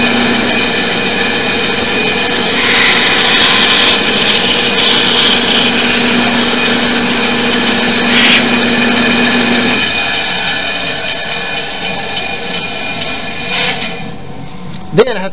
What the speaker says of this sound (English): Straighten up the bandsaw,